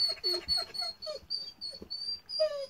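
Two dogs whimper and yip in a run of high, thin whines and short cries, close to the microphone with no talking over them.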